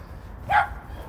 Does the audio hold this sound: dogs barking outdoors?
yes